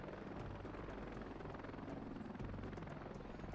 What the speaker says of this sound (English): Oh, the Yak B. I'm not familiar with this helicopter.